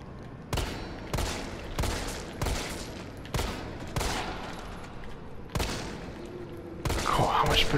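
Repeated gunfire at a zombie in the video game Resident Evil 3, about eight loud shots roughly evenly spaced under a continuous low game ambience, each crack followed by a short decaying tail.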